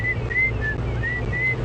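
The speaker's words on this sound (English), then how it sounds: "I can hear the Admiral's whistle of the grey hornbill" A grey hornbill on a game reserve safari drive gives a repeated, thin whistled call, five short piping notes at a steady, even rhythm. The call stands out clearly over a constant low rumble.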